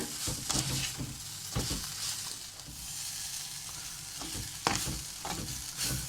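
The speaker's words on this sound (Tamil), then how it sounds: "இப்போ பழப்புளியையும் எல்லா இடமும் வடிவாக கலந்தெடுக்கவும்" Tamarind being stirred into masi sambal in a pan, with scraping spoon strokes and soft irregular scrapes over a faint sizzle, close and fairly quiet, with no voices.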